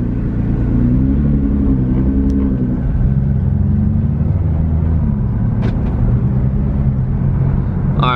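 A Nissan R35 GT-R on R888R tires cruises along the road, a loud steady drone of engine and tire roar throughout, heard from inside the car, with faint clicks and no talk.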